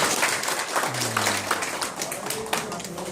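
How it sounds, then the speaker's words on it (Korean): Audience applause closing the first GMO symposium, a steady wash of clapping from a seated crowd lasting about three seconds, with a few voices faintly underneath. "큰 박수로 마무리하기로 하겠습니다."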